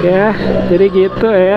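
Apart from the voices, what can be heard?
No distinct noise like a dog, phone or traffic.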